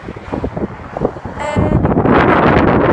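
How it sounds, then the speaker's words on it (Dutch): Strong wind gusts buffet the microphone outdoors, a rough low rumbling roar that builds and becomes louder and steadier in the second half, with no speech. "Want het waait ook nog eens veel."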